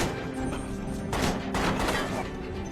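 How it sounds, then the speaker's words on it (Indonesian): Rapid bursts of gunfire, several close shots in quick succession over a steady background rumble. "4 tembakan ke tubuhnya."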